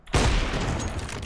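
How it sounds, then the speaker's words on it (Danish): A single loud shotgun blast in a first-person shooter, hitting abruptly and then trailing off in a long booming decay. "Var det en shotgun, det der?"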